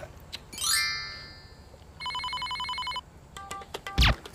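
An electronic phone ringtone sounds, with a rising chirp followed by a steady warbling ring lasting about a second, then brief beeps and a click.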